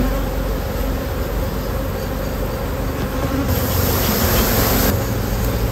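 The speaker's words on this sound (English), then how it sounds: "And then you do have quite a few bees on the sides." A dense, continuous drone of many honey bees buzzing around an open hive while supers are handled, loud and close throughout with no talking.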